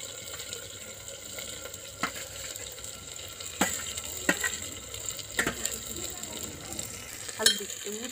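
Garlic fries in a pan during cooking of a green chili dish made with milk, giving a steady, fairly quiet sizzle with a few sharp clicks and stirring knocks scattered through it.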